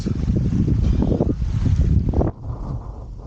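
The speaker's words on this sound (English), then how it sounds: "wow, it's windy." Strong wind on a mountain buffets the microphone in loud, roaring gusts, then drops abruptly to a softer, steadier rush.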